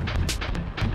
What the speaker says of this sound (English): Those are grenades.